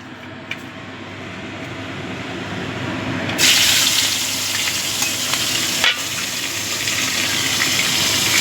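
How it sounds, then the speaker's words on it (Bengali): Loud, steady frying sizzle erupts partway through as koi fish hit hot oil, a broad hiss continuing to the end with a brief crackle burst. "তেলটা গরম হয়ে গেছে এবার মাছগুলো ভেজে নেব"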